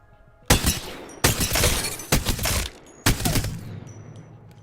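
Submachine gun in Apex Legends firing full auto in four loud, rapid bursts of crackling shots, each burst cutting off sharply with brief gaps between, ending with a short metallic mechanical trail.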